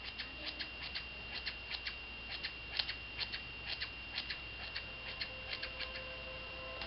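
Scissors snipping hair into blunt bangs, a close, regular series of crisp short cuts repeating roughly every third of a second over a faint steady background hiss.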